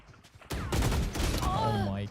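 Enemy pre-fire in a competitive shooter video game: a sudden loud burst of rapid gunfire erupting close by, then fading into ringing echoes, with a voice talking over it.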